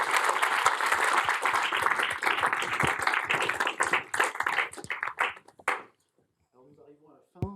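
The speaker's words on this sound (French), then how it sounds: "on peut remercier nos intervenants et intervenantes et les applaudir" An audience applauds the speakers at a conference presenting LGBTQIA+ survey results: loud, dense clapping that thins into scattered claps and stops, followed by a brief voice.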